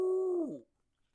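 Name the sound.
person imitating an owl hoot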